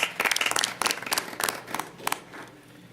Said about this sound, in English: So big round of applause for all of our achievers.